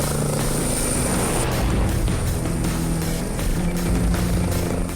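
An air ambulance helicopter lifts off and hovers, its rotors and engine droning loudly and steadily nearby, a continuous whirring roar with no talk.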